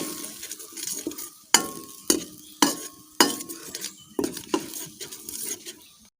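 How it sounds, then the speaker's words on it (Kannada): Spice masala frying in oil for mint puffed rice charmuri, with sharp spoon scrapes and taps against the pan at irregular intervals over a quiet sizzle, close up and with no voices. "ಇನ್ನು ಈ ಮಸಾಲೆಯನ್ನು ಚೆನ್ನಾಗಿ ಹಸಿ ವಾಸನೆ ಹೋಗುವವರೆಗೆ ಚೆನ್ನಾಗಿ ಎಣ್ಣೆಯಲ್ಲಿ ಸ್ವಲ್ಪ"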